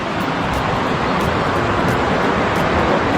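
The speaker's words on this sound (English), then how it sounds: "Here you go, the lovely sound of water." Water flowing steadily along a trail in a nature reserve near Hartbeespoort, a continuous broadband rush heard close and fairly loud, with no voices over it.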